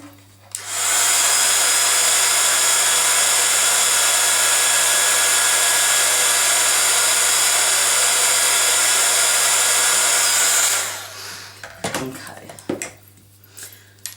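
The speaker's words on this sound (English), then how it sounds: "So I'm just going to take my heat gun" A heat gun blows a loud, steady, whirring rush for about ten seconds while it melts embossing powder, then shuts off, followed by faint handling clatter close by.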